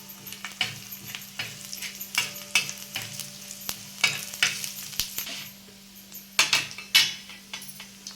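Green chilies crackle and pop in hot oil with mustard seeds, a village-style Maharashtrian chili-in-yogurt tempering, with bursts of sharp spitting and clinks of a metal spoon against the pan, close and moderately loud with no talk.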